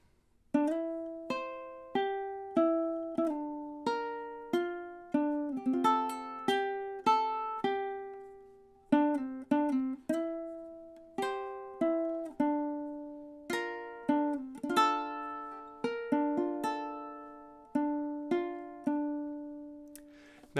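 Solo ukulele picks out a song's intro, a steady sequence of bright plucked notes and chords with clear, even rhythm over about twenty seconds, close and alone with no talking.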